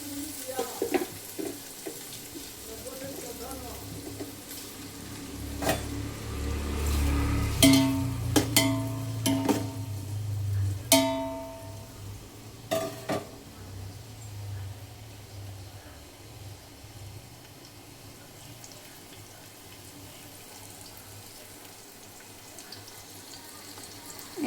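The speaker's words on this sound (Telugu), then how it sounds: "కాసేపు ఆనియన్స్ ఫ్రై చేసుకోవాలి" Sliced onions frying in hot oil for a chicken biryani, a low steady sizzle with occasional stirring and clinks, briefly louder in the middle before settling back to a soft hiss.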